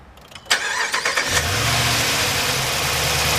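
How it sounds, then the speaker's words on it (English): A 2014 RAM 1500 ST pickup truck engine cranks over with a few rapid starter pulses, catches, and settles into a steady low idle that carries on to the end. "We're gonna go ahead and start it up."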